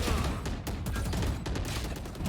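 Rapid volleys of gunfire in a Valorant esports match ring out in quick succession, close and loud, filling the whole moment with no voices over them.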